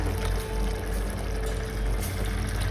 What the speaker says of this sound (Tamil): வதங்கினதுக்கு அப்புறமா உங்க ரைஸ்க்கு தேவையான அளவுக்கு தண்ணி ஆட் பண்ணிக்கோங்க.